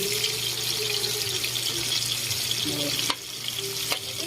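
Garlic sizzles in a pan with fried eggplant, a steady loud hiss of hot oil with a brief sharp clatter partway through.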